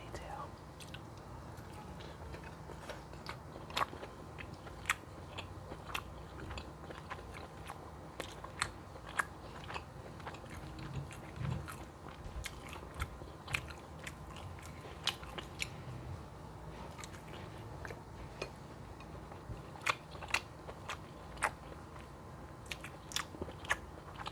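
Close, quiet chewing and biting on pasta and meatballs, with soft wet smacks and crisp clicks repeating irregularly throughout, intimate and near.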